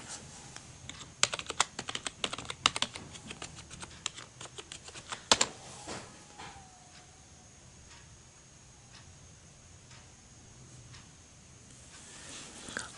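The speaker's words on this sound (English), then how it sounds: "let me go ahead and enter the password" Rapid keystrokes on a computer keyboard while a password is entered on Windows, a close, crisp burst of clicking for several seconds, then a few sparse isolated taps in a quiet room with no voices.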